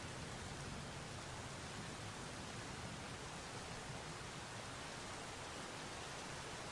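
Steady, even rain falls in a continuous broadband hiss, moderately close and unbroken throughout, with no voices or other sounds over it.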